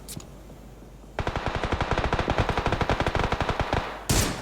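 Automatic gunfire in the video game PUBG on PC, a fast, even burst of loud shots lasting nearly three seconds after a quiet start, then a short sharp blast at the end, with no speech.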